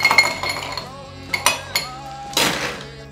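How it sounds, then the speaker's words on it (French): Ice cubes clinking into a glass while preparing a Negroni cocktail, a handful of sharp, bright glassy clinks and knocks in quick succession, close and fairly loud, ending in a short rattling cluster. "Donc on prend notre verre, on complète le glaçon."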